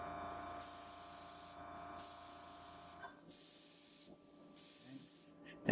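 A Gaahleri Swallowtail dual-stage airbrush with a 0.28 nozzle sprays paint in a steady, close airy hiss. The hiss is broken by a few short pauses, and a low compressor hum runs underneath.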